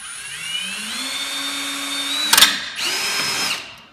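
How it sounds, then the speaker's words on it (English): A power drill bores into the first layer of a window frame, whining up steadily, catching with a sharp burst partway through, then spinning briefly again before winding down, close and alone. "all I'm going to do is drill into the first layer only"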